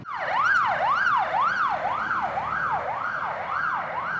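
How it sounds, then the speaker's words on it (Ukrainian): Emergency vehicle siren sounding during a fire drill at a business centre in Kyiv's Podilskyi district, with fire crews and an ambulance present: a loud, steady wailing siren rising and falling in regular cycles about every half second, with no talk. "Пожежна тривога, кілька екіпажів рятувальників, карета швидкої."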